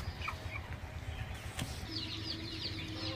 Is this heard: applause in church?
no